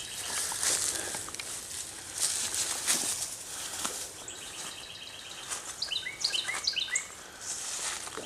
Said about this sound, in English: Bird sounds happy.